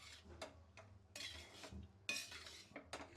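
Tamarind rice being mixed in a pan on the stove, heard as a series of close metallic scrapes and clinks of a spoon against the pan in an irregular rhythm, with no talking.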